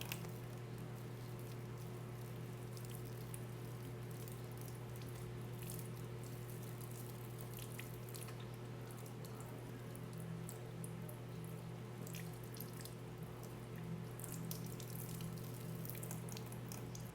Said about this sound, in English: Rinsing the hands this way makes the water run from the area that has fewest microorganisms to an area with a relatively greater number of pathogens.